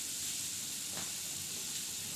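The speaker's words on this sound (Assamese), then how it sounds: "এতিয়া চাওকচোন মোৰ জোলখিনি উতলি আছে" Fish curry gravy simmering in a pan, a steady soft sizzling hiss with gentle bubbling that holds evenly throughout, close and moderately quiet with no talk.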